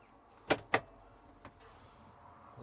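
A Citroen Ami's door being opened, heard as two sharp close clicks of the latch and handle in quick succession, then a fainter knock, with quiet background in between.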